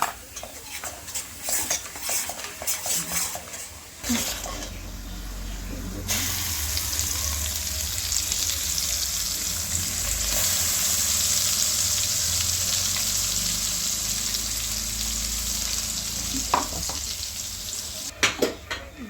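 Phodni for amti sizzles steadily in hot oil with onion masala, kitchen king masala, red chili and turmeric, while a spoon stirs and scrapes the pan with clinks of utensils and cookware throughout.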